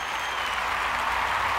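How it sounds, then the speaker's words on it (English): Canned applause sound effect, a steady dense wash of many hands clapping at once, loud and close, running without a break. "Cue the applause."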